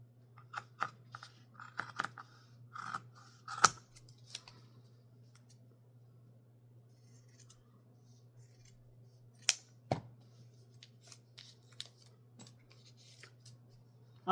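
Close, crisp scissor snips through denim come in quick clusters, then pause, then resume, over a constant low electrical hum.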